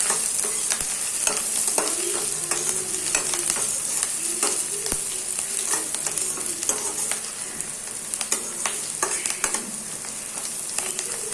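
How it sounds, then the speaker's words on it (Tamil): Onions and fennel sautéing in a pan, a constant bright sizzle with frequent sharp scrapes and taps of a spoon stirring, close up and uninterrupted by speech. "நல்லா ப்ரௌனிஷ் கலரில் வர அளவுக்கு வெங்காயத்தை நல்லா வதக்கணும்"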